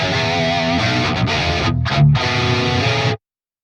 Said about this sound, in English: one of the sides is delayed by 6 milliseconds, giving that stereo spread